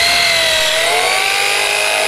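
A power drill bores through bamboo poles while a bamboo shelter is built in Indonesia. The motor whines loudly and steadily, close by, with a slight pitch shift as it works through the pole.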